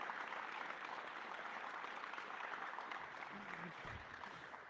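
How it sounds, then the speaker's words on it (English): Audience applause at a political event announcing tax breaks for trades, a sustained wash of many hands clapping at moderate distance, easing slightly toward the end. "give him a round of applause"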